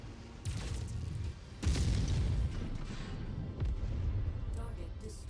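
A mech destroyed in MechWarrior 5 combat: heavy booming impacts and rumbling blasts break out in bursts over a rough mechanical background, fairly quiet overall.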